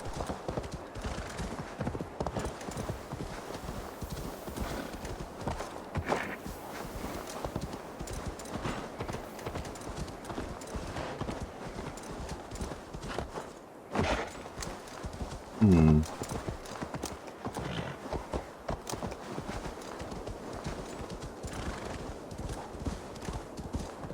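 Horse hooves clip-clop steadily in Assassin's Creed Valhalla as the mount trots around a Viking settlement, a rhythmic patter beneath game sounds and occasional talk.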